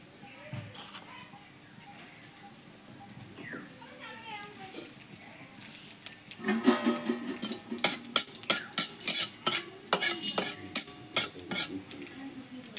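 Black cumin seeds go into hot mustard oil in a kadai, then a utensil stirs and clatters against the pan in sharp, rapid knocks that grow louder in the second half, with a faint voice early on.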